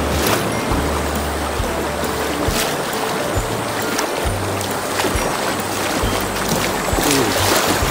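Choppy river water splashing and rushing around a packraft on the Sai River into the Chikuma River in Nagano, a steady, close, broadband wash with low rumbling surges and wind throughout.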